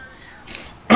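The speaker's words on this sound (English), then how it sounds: "Why am I coughing so much?" A single short, harsh cough near the end, close and loud, after a brief breathy sound.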